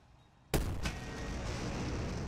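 A tank gun in a WW2 tactical strategy game fires once with a sudden loud blast, a second crack follows shortly after, and a rumbling roar trails out behind it.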